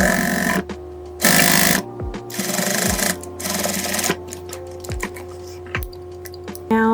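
A domestic sewing machine runs in several bursts, stitching three fabric layers together along the edge of a recycled produce bag, with its whirring motor starting and stopping between short pauses.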